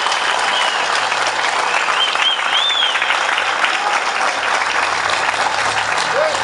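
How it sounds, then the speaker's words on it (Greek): A large crowd at a Greek political speech applauds loudly and continuously, a thick unbroken wash of clapping with a few whistles rising above it. "να ακούσω πάλι το χειροκρότημα πιο δυνατά"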